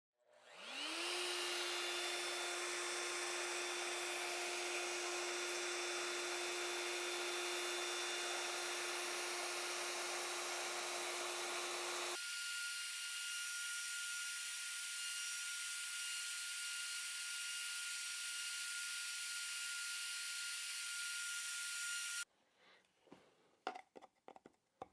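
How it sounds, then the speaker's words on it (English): Plunge router with wood router bushings cutting an inlay at very high speed, a loud sustained whine that shifts pitch partway through, then stops abruptly leaving a few small clatters. "I'm going to turn the router on. It's going to be on a very high speed"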